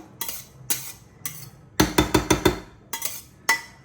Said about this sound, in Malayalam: ചോറ് മസാലയിലേക്ക് മിക്സ് ചെയ്യാണ്.